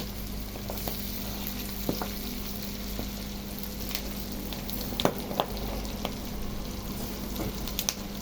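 Garlic frying in oil as the base for a sweet and spicy pork shrimp paste: a steady, soft sizzling hiss with scattered small crackles and pops, close but fairly quiet.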